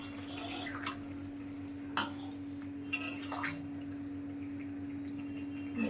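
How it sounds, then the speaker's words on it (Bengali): A lid is lifted off a cooking pot of simmering vegetables and potatoes in a home kitchen. A few faint metallic clinks and scrapes come over a steady low hum, with light dripping and handling sounds. "এবার আমি ঢাকনাটা তুলে নেব"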